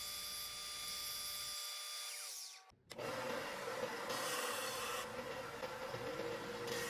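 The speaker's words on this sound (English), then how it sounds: "shaping the toe, I use the same belt sander, 80 grit sandpaper, and just rounding it over" A belt sander with 80 grit sandpaper shapes a rosewood plane tote, a steady abrasive roar with a motor whine that drops out briefly before grinding resumes continuously, close and loud.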